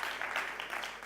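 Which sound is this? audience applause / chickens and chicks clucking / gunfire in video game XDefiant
audience applause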